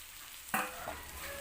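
A spatula scrapes and stirs chili, tempe and tofu in a hot frying pan, with one sharp clatter followed by a soft continuous sizzle, close and brief.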